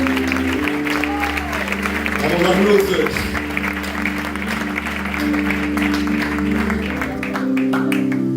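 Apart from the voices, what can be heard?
applause in church service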